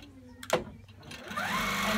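Handiquilter longarm quilting machine stitching straight quilting lines, a brief thump near the start followed by a steady, close mechanical hum and whir that builds and holds to the end.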